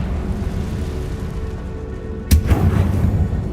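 A Confringo fire spell goes off in Hogwarts Legacy: one sharp, loud blast cuts through a steady low rumble, then a rougher, crackling burst follows close by.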